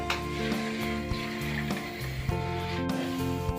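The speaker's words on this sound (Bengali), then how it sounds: "এদিকে দেখো আমাদের কচুরি ভাজা লুচি ভাজা হচ্ছে" Kachori and luchi deep-frying in hot oil produce a steady sizzle with occasional clinks and stirring knocks, layered over a constant background hum.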